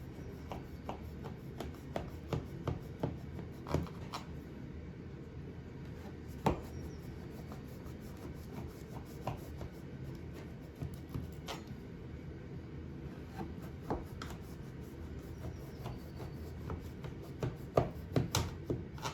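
A knife scoring through a tray of filo-pastry baklava, a long run of quiet, crisp ticks and soft crunches at an uneven pace, close and low in level, with no one talking.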